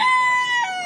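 A single loud crow from a farmyard bird on a poultry farm raising Tiger and Fayoumi chickens. The cry is close, clear and drawn out, lasting under a second with no talk.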